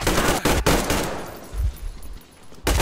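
A short burst of the player's automatic gunfire in Metro Exodus, loud rapid shots stopping, a pause with faint rumble, then another shot at the end, no speech.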